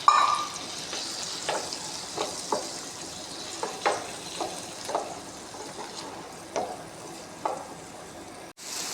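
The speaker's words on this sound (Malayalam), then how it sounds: "അതിന് ബട്ടറിലിട്ടതിന് ശേഷം അരിഞ്ഞ് വെച്ചിരിക്കുന്ന ചിക്കനിലിടുക" Chopped chicken fries in butter in a pan, sizzling softly and steadily near the mic, with occasional clinks and scrapes from stirring scattered throughout.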